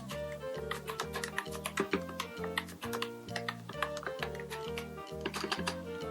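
Typing on a MelGeek Mojo60 compact mechanical keyboard paired with an iPad: steady, fairly quick keystroke clicks with a rhythmic, slightly hollow thock, close and moderately loud, no talking.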